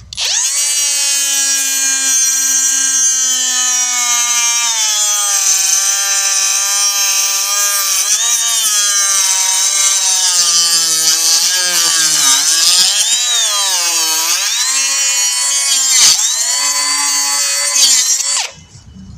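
A Hercules 12V cut-off tool with a 2-amp battery cuts wood, a loud, sustained high-pitched whine that dips and wavers as the blade loads, then winds down abruptly near the end, with no talking.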